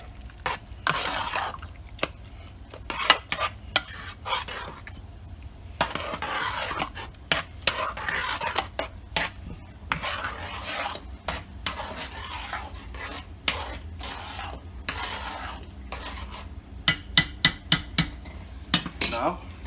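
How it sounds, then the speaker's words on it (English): A spoon stirs seasoning through a cornbread mixture for chili cheese cornbread, giving irregular scraping and clinking strokes throughout, moderately close, with brief tapping bursts near the end. "Give that a nice mix."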